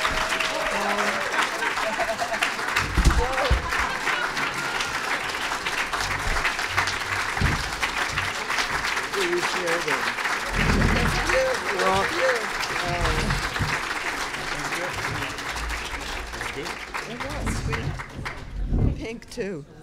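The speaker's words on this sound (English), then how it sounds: "please keep that applause going for our coordinators" Sustained audience applause at a closing session of an academic gay history conference at The New School, a broad, steady roar of clapping from a large crowd that fades out near the end.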